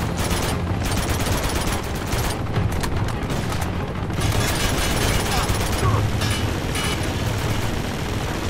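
Sustained gunfire in Uncharted 2 during a fight on a moving train, a dense, steady barrage of shots and impacts heard continuously over loud rumbling noise.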